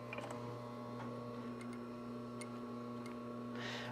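A sewing machine stitches a diagonal seam across a shoulder bag, giving a faint, steady motor hum with light, irregular ticking and no voices.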